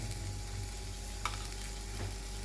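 Ghee and egg sizzling in a frying pan, a steady quiet crackling hiss with a couple of faint clicks of a utensil, close and alone without talk.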